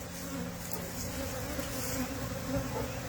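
Honey bees buzz in a steady, faint, continuous drone that holds throughout without any talk.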